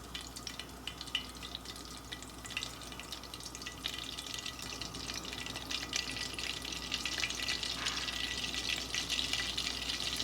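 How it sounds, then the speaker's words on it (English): Chicken frying in hot oil in a home kitchen, a steady, fairly loud sizzle and crackle running continuously throughout, with no talking. "So while my chicken is frying"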